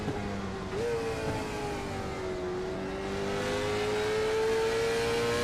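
Late model stock race car engines at Martinsville Speedway drone steadily, with one engine's pitch stepping up then holding a sustained, loud tone under crowd and track noise.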